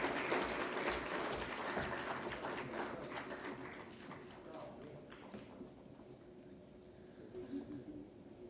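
An audience at a technical textiles conclave applauds a memento presentation, the clapping strong at first, then thinning out and fading over several seconds, with some voices audible beneath it.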